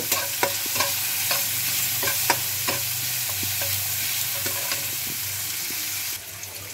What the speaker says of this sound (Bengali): পেঁয়াজটা ভাজার সময় এর মধ্যে একটু লবণ দিয়ে দিলাম